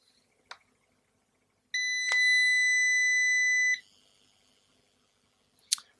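A UPS inverter running on battery gives a single loud, high-pitched electronic beep, holding steadily for about two seconds, framed by a couple of brief clicks in an otherwise quiet room.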